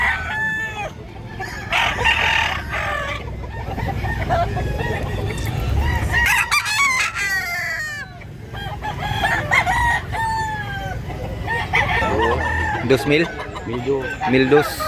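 Several roosters crow repeatedly, mixed with steady clucking from chickens nearby, a busy, loud farmyard chorus of gamefowl at a farm in Mantalungon, Barili, Cebu, Philippines throughout.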